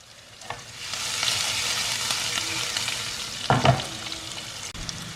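Finely chopped onion frying in a pan for milk porridge, a steady soft sizzle with occasional stirring scrapes and one louder clatter, no talking.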